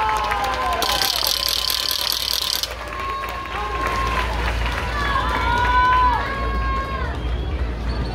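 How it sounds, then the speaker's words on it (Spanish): Audience applause and cheering ring out at a Miss Mexico 2022 beauty pageant, a broad, steady crowd roar that swells early and then continues under an announcer's amplified voice. "Denle un fuerte aplauso, por favor."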